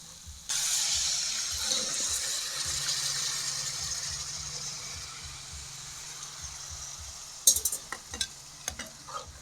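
Water pours into a simmering country chicken curry, a steady hissing rush that runs for several seconds and fades, followed by a few clattering knocks of a utensil against the pot.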